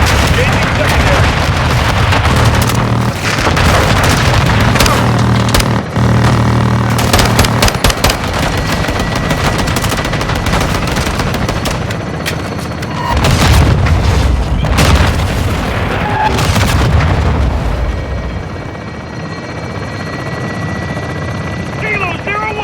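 Air support gunship strikes in the video game Modern Warfare 2: a helicopter drones steadily while machine-gun bursts and heavy booming explosions hit repeatedly, with voices talking over the combat.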